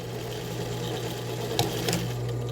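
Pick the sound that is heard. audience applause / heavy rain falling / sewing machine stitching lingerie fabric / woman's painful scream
sewing machine stitching lingerie fabric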